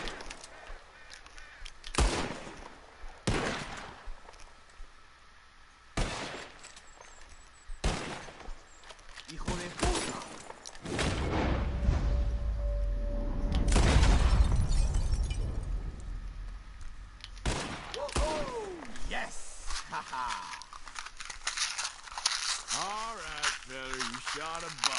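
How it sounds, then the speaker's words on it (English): Revolver shots fired at bottles in the Western game Red Dead Redemption, several sharp cracks spaced apart amid game chatter and goose-like honks, with a louder rumbling stretch in the middle. "Whoever shoots one of these bottles wins."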